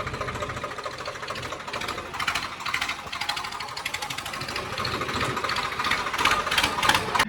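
A tractor engine runs steadily at close range, a dense rapid mechanical chatter and knock that holds throughout and swells slightly toward the end.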